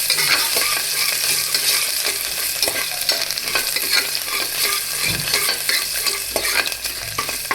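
Garlic, chopped green chili and ginger sauté in hot oil for sabudana khichdi, giving a constant close sizzle broken by frequent scraping stir strokes, with no voices.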